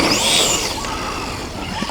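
VKAR SCTX10 V2 RC short-course truck tumbling over in grass, a close, loud rush of whirring motor and scuffing, rustling noise that gradually settles, with no talk.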